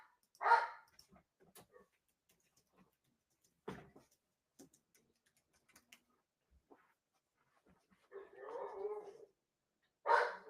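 A dog barks a few times at a distance, short sharp bursts separated by long quiet gaps, with faint rustling between them.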